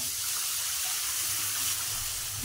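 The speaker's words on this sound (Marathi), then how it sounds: "अंदाजानुसार पाणी ऍड करूया आपण." Water pours in a steady, unbroken gush into a gram-flour mixture and keeps flowing throughout, fairly close.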